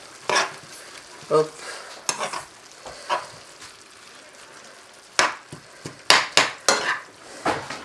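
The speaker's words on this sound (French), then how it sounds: "Et puis on mélange tout ça." Calf liver and vegetables with fennel are stirred in a pan with a utensil, giving intermittent scraping and clacking strokes against the metal, some sharp and close, over a faint background sizzle, with a brief spoken interjection.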